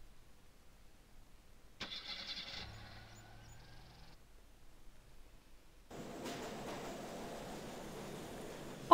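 Car engine starting in the adventure game Gabriel Knight 2: The Beast Within, a click and cranking followed by the engine catching and settling into a steady idle, alone without talk.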